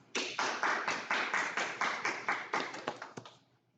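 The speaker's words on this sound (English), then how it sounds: "Let's give them another round of applause." A burst of rapid clapping at a school district convocation that swells quickly, holds for a few seconds, then thins out and fades, sounding like a small group applauding.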